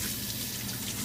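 Tap water runs in a steady, close, even rush with no talk, as lukewarm water is used to rinse pet snakes.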